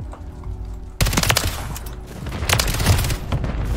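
Loud, close gunfire in the video game Call of Duty Modern Warfare, an abrupt burst of rapid automatic shots with booming impacts that continue in clustered volleys.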